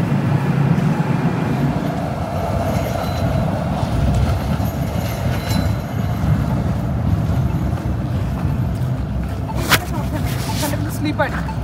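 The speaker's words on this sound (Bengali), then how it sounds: "একটা ট্রেন গেল একটা ট্রেন এলো" Trains pass in snowy, bitterly cold Canadian weather, a steady heavy rumble of wheels on rails filling the scene at close range, with faint rhythmic clacks and a few sharp squeals near the end.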